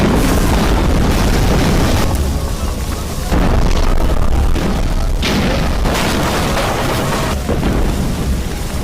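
Loud, booming blasts from homemade bombs in a film recap. The heavy explosions roll one after another over nearly nine seconds, mixed with dense action-scene noise and a voice talking underneath.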